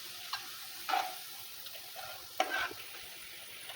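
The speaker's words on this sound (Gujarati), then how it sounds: "તમે જોઈ શકો છો આપણું લસણ સંતળાઈ ગયું છે" Garlic fries in oil in a pan for cheesy garlic bread, giving a soft, constant sizzle with a few sharper scrapes as it is stirred, and no one speaks.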